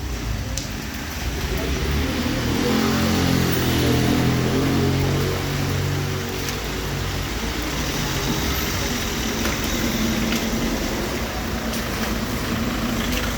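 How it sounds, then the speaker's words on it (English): Heavy road traffic on a rainy street in Istanbul: a steady, dense wash of engine rumble and tyre hiss with rain, continuous and fairly loud throughout, with no clear pauses. "Yeah, a lot of traffic."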